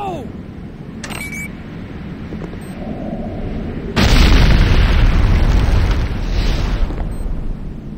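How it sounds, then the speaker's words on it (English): A C4 explosive detonates in the Renegade video game with a loud, booming blast that rolls on for several seconds and then slowly fades. It follows a few quieter game sounds and a brief voice line. "C4 is set. Fire in the hole!"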